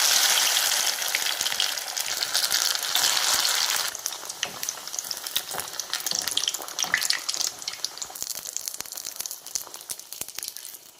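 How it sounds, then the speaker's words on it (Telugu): Breaded mushroom cutlets deep frying in oil, a dense crackling hiss that starts loud and broad, then settles into busier popping and spitting bubbles, close with no talk. "అద్దేసుకొని ఒక్కొక్కటి డీప్ ఫ్రై చేసి"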